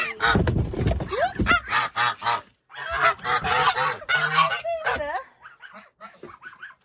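Several geese honk loudly and repeatedly while being chased around their house, close by and in rapid, overlapping bursts, with short pauses between volleys.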